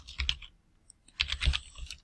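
Keyboard typing while writing Python code, two short bursts of quick, close clicking keystrokes separated by a brief pause.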